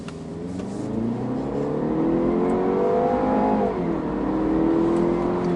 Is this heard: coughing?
no